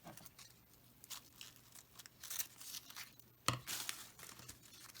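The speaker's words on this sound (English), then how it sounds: "So I'm going to cut these petals off." Paint chip paper being cut into petal shapes, with a series of soft crisp snips and papery crinkles spread across the moment, close and fairly quiet, with no talking.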